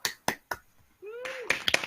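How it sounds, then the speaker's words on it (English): Scattered claps from an online graduation audience, a few sharp isolated hand claps followed by a brief tone and a burst of mixed clapping and small cheers, thin and uneven as if over video call microphones. "I now warmly welcome you to unmute and clap and cheer each other."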